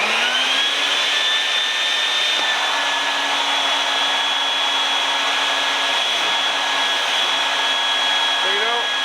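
A DIY bee vacuum with a short hose and a secondary honey bee catch container runs steadily, a loud, continuous motor whine with a high tonal hum. It holds unbroken from start to finish, with no talk over it.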